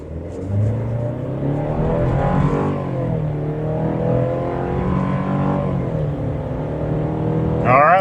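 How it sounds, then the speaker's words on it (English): A Chevy Colorado's four-cylinder engine accelerates hard from a standstill to 60, heard from inside the cabin as a rising whine that drops at each gear change and climbs again through several shifts, with a brief chime near the end. "it's a little noisy, and it's the engine, it's not the exhaust"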